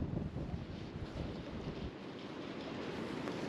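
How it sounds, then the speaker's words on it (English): Steady wind blasts across the microphone outdoors at a fly-fishing spot, a dense, close rushing roar that swells and eases slightly without pause, with no talk. "the wind is really starting to pick up"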